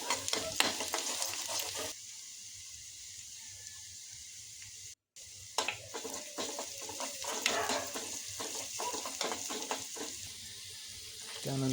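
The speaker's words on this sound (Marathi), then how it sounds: "तेलात लसूण टाकून स्टर करून घेतलेला आहे आणि त्यासोबत मिरची पण टाकलेली आहे" Garlic and chili stirred while frying in oil for paneer chilli, a steady close sizzle with repeated scraping stirs, briefly dropping quieter then resuming busy clatter and hiss.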